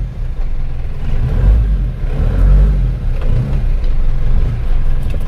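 An Isuzu Panther diesel engine idles steadily with a deep, continuous rumble close by, swelling slightly a couple of times as it runs on its own without talk.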